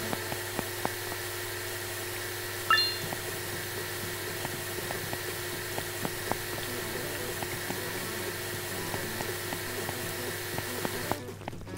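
Water sprays steadily onto a car during a rinse in Car Detailing Simulator, a continuous hissing wash with faint clicks throughout and a sudden louder burst of spray near the end, no talk.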